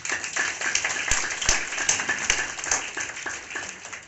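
An audience at a Mahashivratri function claps together, a steady patter of many hands with a few sharper individual claps standing out, heard at moderate level in a room.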